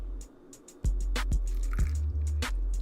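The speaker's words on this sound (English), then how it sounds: "Let's get a nice little pour in there." Kool-Aid poured from a container over ice cubes, with close, steady liquid pouring and a few sharp clinks and cracks of ice starting abruptly and continuing for about two seconds.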